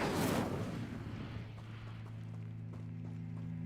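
A fire spell cast in the Hogwarts Legacy video game: a loud burst of whooshing flame at the start that fades into a steady low magical drone with faint scattered crackles.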